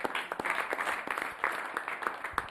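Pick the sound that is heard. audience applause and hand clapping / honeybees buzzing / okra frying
audience applause and hand clapping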